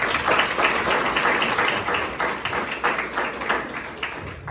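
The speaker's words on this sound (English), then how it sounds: "please give him a round of applause, please" An audience at a business masterclass gives a round of applause, a fairly close, moderately loud spread of clapping whose density swells and eases over about four and a half seconds.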